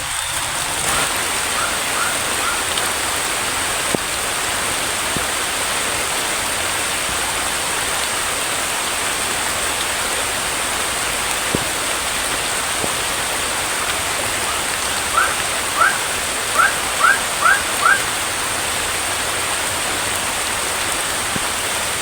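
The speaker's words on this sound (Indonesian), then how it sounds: "Hujan deras sekali guys, jadi kita tunggu sini aja dulu guys ya, sampai hujannya reda" Heavy tropical rain pours in a constant, even hiss, dense and unbroken throughout, with a few faint high chirps surfacing near the end.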